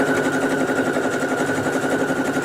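A sewing machine runs continuously at an even speed while stitching pant fabric, giving a steady, close mechanical hum and whir.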